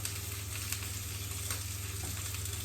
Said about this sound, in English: You can hear that nice little popping, sizzling, crackle sound.